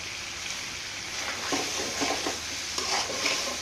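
Mutton frying in a pan, a steady close sizzle broken by several short scraping stirs of the spatula in the middle and toward the end.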